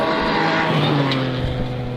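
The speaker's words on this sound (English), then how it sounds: "Great sounding car" A Toyota GR Yaris rally car on a stage of the Goldrush Rally Coromandel in New Zealand roars loudly with a rising, shifting engine note as it races past at close range.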